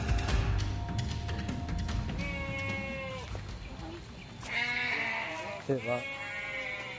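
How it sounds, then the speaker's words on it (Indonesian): Goats bleat several times in a village setting, their wavering cries rising over background chatter and nearby voices, some calls overlapping one another. "Ada suara kambing ya,"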